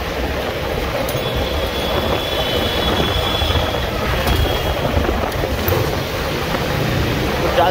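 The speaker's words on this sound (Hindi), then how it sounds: "बस यार ये ट्रेन" A train passes loud and close, with a steady heavy rumble of wheels on rails, faint squeals and clicks, and a voice briefly heard under it.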